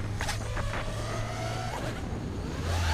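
Racing drone on T-Motor F-60 motors flies past outdoors, a loud continuous whining buzz that rises and falls in pitch as the throttle changes, fairly close and steady throughout.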